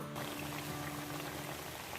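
Mandazi dough fries in hot oil, giving a dense, steady crackling bubble throughout, close and moderately loud with no talk.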